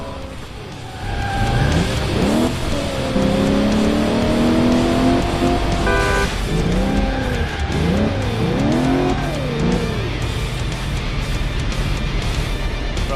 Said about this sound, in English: Nudge the back of the car, put it into a spin, stop in front of him